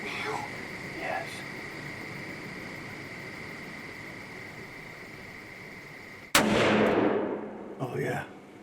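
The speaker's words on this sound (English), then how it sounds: "Put it on his shoulder and squeeze the trigger." A single rifle shot during a deer hunt: one loud, sharp crack with a short echoing tail, then a brief rustle, after several seconds of quiet outdoor stillness.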